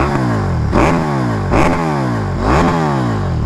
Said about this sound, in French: essai de pot. C'est un pot Accra, hein. Non, c'est pas le pot d'origine, c'est un pot Accra dessus.